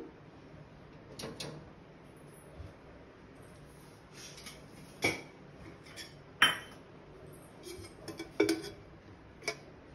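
A gas stove igniter in a home kitchen ticks a handful of times, giving sharp, scattered clicks that are fairly faint against a quiet room, with a few light metallic clinks mixed in.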